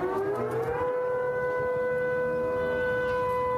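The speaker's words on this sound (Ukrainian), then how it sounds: "приємні звуки повітряної тривоги" An air raid siren sounds during wartime in Crimea, a loud steady wail that rises at the start and then holds level tones, with no voices over it.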